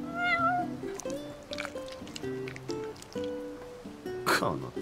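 A cat meows in the PC game Final Fantasy XV: a few high, wavering meows open the clip, close and clear, over steady tonal in-game music that keeps playing to the end.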